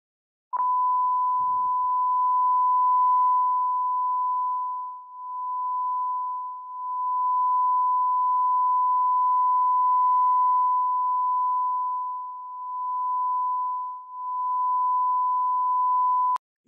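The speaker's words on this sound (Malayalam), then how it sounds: "ഇനി ഒരു 1000 Hz പ്ലേ ചെയ്തിട്ട് ഒന്നും കൂടെ നോക്കാം." A pure 1000 Hz sine test tone plays steadily from a speaker for about sixteen seconds, even and continuous with a few slight dips in level, starting and stopping abruptly.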